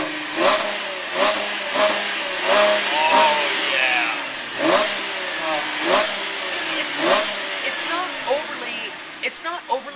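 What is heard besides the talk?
2010 Chevrolet Camaro V6 engine revving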